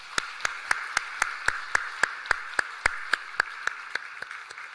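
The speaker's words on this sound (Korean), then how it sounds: "우리 모두 함께 격려의 마음, 사랑의 마음으로 큰 박수하도록 하겠습니다." Church congregation at a Sunday service claps in a slow, even rhythm, about eighteen distinct sharp claps at steady intervals, fairly faint and distant with no other sound.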